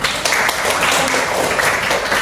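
Classmates applaud in a classroom at the end of a lesson, a dense, steady wash of clapping hands filling the room throughout, with a few voices mixed in.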